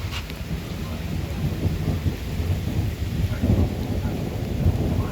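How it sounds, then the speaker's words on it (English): Thunderstorm over a fishing lake at White Springs fishery, with low rolling thunder rumbling and building while steady rain patters on surfaces nearby, loud and continuous with no talk. "Who loves a bit of fishing in a thunderstorm?"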